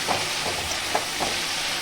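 Small fish sizzle in a hot kadai over raised heat while being stirred, a dense, continuous hiss with soft scraping knocks from the stirring.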